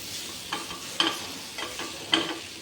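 Jaggery is stirred into a hot mixture in a pan, making four or five rhythmic scraping strokes over a soft sizzle, close by and with no voices.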